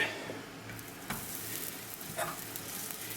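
Steady sizzling of garlic-spread bread cubes frying into croutons in a hot pan, a continuous crackle with a couple of brief scraping knocks, no voices.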